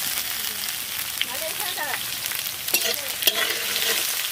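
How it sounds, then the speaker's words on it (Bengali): Chopped onions fry in a pan at an outdoor picnic cook-up, a steady close sizzle with occasional stirring scrapes and no talk. "ভাজবো, ব্রাউন ব্রাউন করে নেবো পেঁয়াজটা।"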